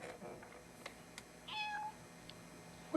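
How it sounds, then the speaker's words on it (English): A cat gives a short, faint meow amid quiet household background noise, with a few small clicks and thumps around it. "When did we get a cat?"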